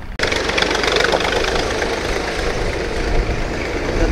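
Tractor engine passing along an old historic road near Islamabad, a loud steady low diesel rumble that fills the whole stretch without letting up, with no voices over it.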